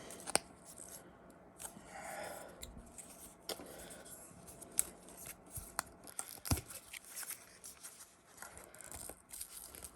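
Sealed 30-pin cable being unwrapped from its plastic packaging, faint crinkling, tearing and scattered sharp clicks and snaps, close and quiet with no voices.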